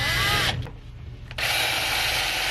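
A power drill drives screws into a heavy-duty speaker bracket plate for a Porsche Cayenne, whirring loud and close in two bursts separated by a short pause.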